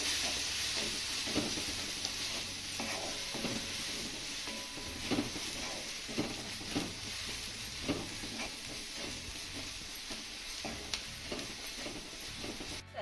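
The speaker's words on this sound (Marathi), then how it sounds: "आता हे घातलेलं सर्व साहित्य आपल्याला एक मिनिटभर चांगलं परतून घ्यायचं आहे" Spices with turmeric, asafoetida and salt are sautéed in a pan, making a soft, continuous sizzle. Repeated light scraping and tapping of a stirring spoon keep a loose rhythm throughout.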